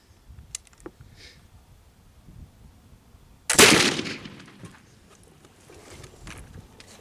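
A black powder gun with its flash pan charged with homemade gunpowder fires. One sudden loud burst comes midway through a quiet stretch, followed by a hissing, fizzing decay.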